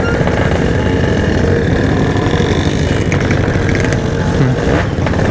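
A Yamaha RX King two-stroke motorcycle ridden at night, its engine droning loud and close with a rough, buzzy tone that rises and falls slightly as the rider holds speed, with no voices over it.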